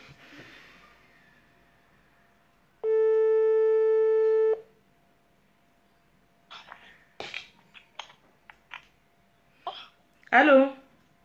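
A single steady telephone ringback tone sounds for about two seconds while a caller is dialled, clear and alone, followed by scattered clicks, short noises and brief voices.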